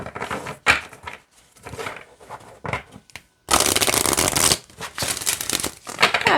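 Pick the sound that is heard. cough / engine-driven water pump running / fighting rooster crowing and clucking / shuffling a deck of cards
shuffling a deck of cards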